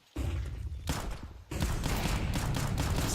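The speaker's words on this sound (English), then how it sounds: "some nice flashbangs and some nice kills with 5-7" Gunfire and flashbang bursts in a Rainbow Six Siege pro league match, dense rapid shots and a sudden loud blast, close and sustained without voices.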